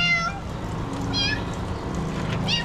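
A cat meows three times, short and rising, over a steady low rumble of background noise.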